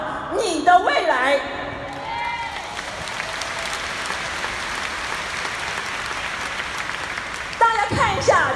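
A large audience claps loudly and continuously at a Hong Kong annual business convention. The dense applause fills the middle stretch, with a speaker's voice heard briefly at the start and end.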